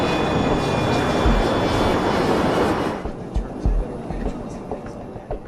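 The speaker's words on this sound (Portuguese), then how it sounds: "A tripulação está pilotando um jato regional Avro 146." Avro 146 four-engine regional jet in flight, carrying a team on a night flight, a steady broadband engine roar that drops sharply about halfway, followed by faint cabin rumble with soft thumps.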